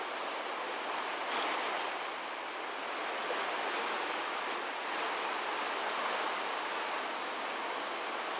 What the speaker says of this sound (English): Got some waves for a change.